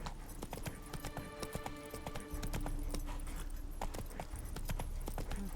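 Steady clip-clop hoofbeats from Roach, the horse in a video game, trot along at an even rhythm under a faint, tonal musical backdrop.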